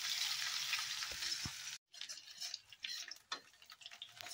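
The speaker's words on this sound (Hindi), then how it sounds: "इसमें लगा दिया है प्याज का तड़का" Onion sizzling in hot oil for a tempering, a dense steady crackle and hiss close by that briefly cuts out and then resumes, with a few clicks of stirring.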